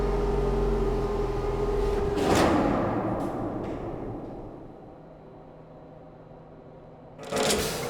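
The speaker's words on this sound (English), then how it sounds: "We can spin the car around to go out." A mechanical car in the video game Riven rotates with a steady low grinding hum and rumble, with sharp clanks near the start and end of the turn, heard alone without talk.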